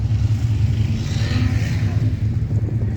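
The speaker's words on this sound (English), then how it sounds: "Traffic's real bad." A car rolls through heavy highway traffic near Baltimore and DC, a continuous loud low road rumble and engine drone heard from inside the cabin, without talk.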